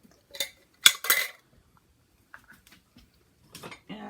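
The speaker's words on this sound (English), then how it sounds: "I got to get my measuring cups." Measuring cups clatter as they are pulled from a kitchen cabinet, a few sharp metallic clinks in quick bursts, then quiet, then a couple more soft knocks near the end.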